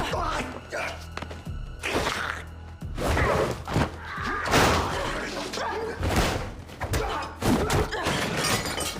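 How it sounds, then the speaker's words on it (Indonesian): Punches, thuds and slams from a fight scene in the Indonesian action film The Night Comes for Us, with an assassin attacking a resting man. Repeated heavy impacts land in quick irregular bursts over steady background noise. "Di tempat lain, Ito dan Reina yang sedang istirahat tiba-tiba didatangi oleh The Operator yang langsung menghajar Ito."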